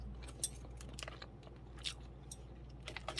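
Close, quiet chewing of a chili-seasoned chicken breast with a rubbery bite, soft irregular crunches and bites over faint background hum.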